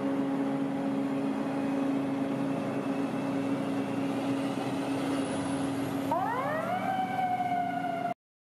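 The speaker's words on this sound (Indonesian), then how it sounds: "Dan lanjut ada mobil pemadam kebakaran." Toy fire engine with an electronic siren wailing in a steady, loud tone, then rising in pitch into a different siren pattern before cutting off abruptly.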